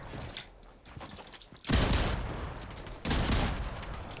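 Pump shotgun in a video game firing a double shot, two heavy blasts a little over a second apart, each leaving a loud lingering roar, with softer mechanical clicks before them.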